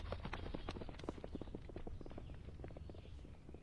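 Horse hooves clip-clopping in the video game To the Moon. A quick, steady run of soft thuds plays at low volume over a low background hum, with no voices.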